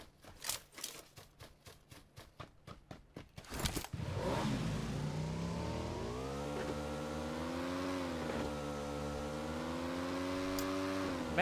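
A motorcycle engine in PUBG Lite starts after a run of rhythmic clicks, then settles into a loud, steady buzzing drone that rises and falls in pitch as it revs, with no voices.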